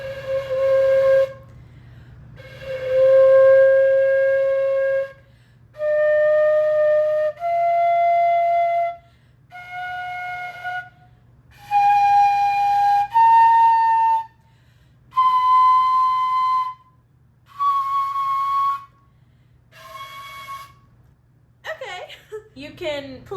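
A Nuvo Toot played with a traditional flute lip plate gives a breathy, whistle-like tone. Held notes climb step by step, each lasting about two seconds with short gaps between them, over a low steady hum. A quick run of notes closes the passage.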